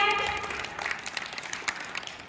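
Scattered audience clapping at a Mother's Day event, a brief patter of hands that fades into sparse claps, with a voice briefly heard over it.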